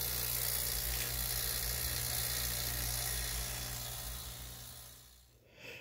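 A vacuum pump runs on a walk-in cooler's refrigeration unit during final evacuation, giving a steady, loud, continuous whirring hiss that holds evenly before dipping and fading near the end.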